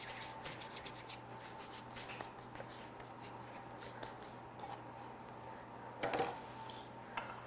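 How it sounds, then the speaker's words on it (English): A hand rubs flour over a bowl to clean it, making a quiet, continuous dry rubbing and scuffing with a brief louder scrape near the end. "take a little flour and rub it over the bowl"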